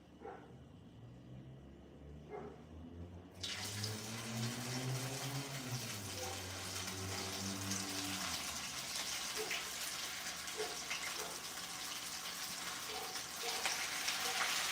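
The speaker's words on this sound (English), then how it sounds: "I'm gonna go ahead and fry these" Crispy rolls drop into hot oil for deep frying, setting off a loud, steady hiss and bubbling sizzle that continues unbroken after a quieter start.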